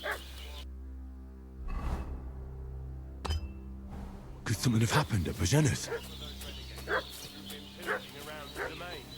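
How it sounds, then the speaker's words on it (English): A dog in a medieval role-playing video game barks and yips in short bursts, fairly close, mixed with game ambience while someone speaks over and between the barks. "What's that dog making such a fuss about?"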